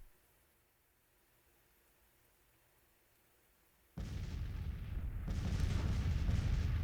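Civil War artillery opens fire in the Grand Tactician strategy game: after several seconds of near silence, a loud sustained cannonade bursts in and keeps rumbling with overlapping booms.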